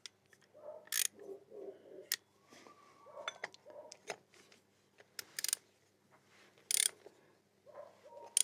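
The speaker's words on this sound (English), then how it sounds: "we can screw the filter back." Quiet close-up clicks and ratcheting taps as an oil filter is screwed back onto a Benelli TRK 502X motorcycle during an oil change, with small metallic scrapes and a few sharper ticks spread irregularly.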